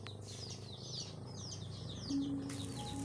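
Chickens cluck and chirp at moderate distance against a steady low background hum, a series of short calls running through the clip.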